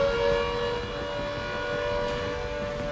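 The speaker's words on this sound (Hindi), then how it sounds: "धमाके की आवाज के बाद से यहां लगातार सायरन बजते रहे।" A sustained air raid siren wail holds a steady tone, sounding somewhat distant over a low background rumble, with no voices.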